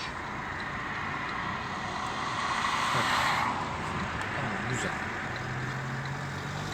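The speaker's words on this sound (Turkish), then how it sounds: "Bak mesela ne kadar hızlı geliyor gördün mü araç?" A car comes fast up a sloped, dangerous stretch of road, its rush of engine and tyre noise swelling to a peak near the middle and easing off, with a voice murmuring faintly over the steady traffic wash.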